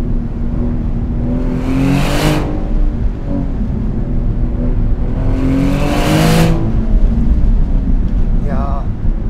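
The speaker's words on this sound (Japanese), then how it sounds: "6000回転を超えるあたりのエキゾーストの音、これたまんないですね。" An open-top Maserati GranCabrio Trofeo on a winding road revs hard above 6000 rpm, its exhaust rising in two loud, sweeping bursts with a fainter third, while wind and road rumble fill the gaps.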